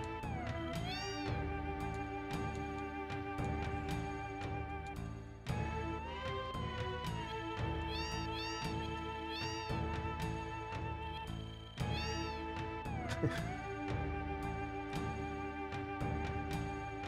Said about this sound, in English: Yo, mad cats.